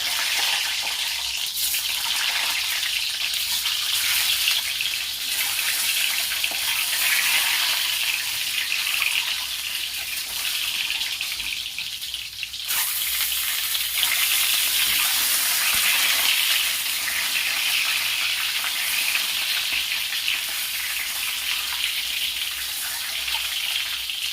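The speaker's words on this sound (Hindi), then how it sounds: "दोस्तों इसे मैं डीप फ्राई करूंगी। लगभग 3-4 मिनट में ये फ्राई हो जाएगा।" An egg deep frying in hot oil for an Afghani egg curry: a continuous dense, bright sizzle and bubbling that runs steadily throughout with one brief dip midway, close and fairly loud, no talk.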